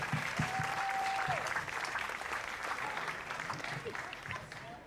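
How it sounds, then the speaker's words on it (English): At a credit union gathering held at Knott's Berry Farm, the audience claps in a steady, moderately quiet round of applause with a few faint voices mixed in. "I think we ought to just give another round of applause for our phenomenal credit union"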